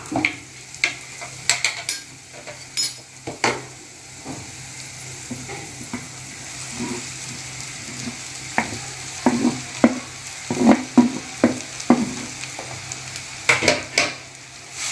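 Ground moringa leaves sautéing with softened tomato in a pan, a low sizzle under repeated scraping and clinking stirs of a spoon against the pan, irregular and close.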